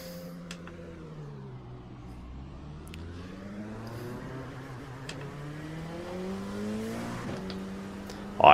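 LMP2 prototype race car in the iRacing sim, its engine droning with rising and falling pitch through gear changes, with faint tire squeal and occasional clicks, moderately quiet with no voices.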